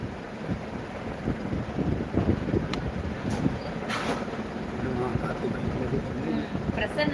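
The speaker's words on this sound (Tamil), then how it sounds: "சென்னையில செம்ம காத்து" Strong wind gusts across a microphone outdoors in Chennai, a steady broadband rumble that keeps up for the whole stretch with no clear talk over it.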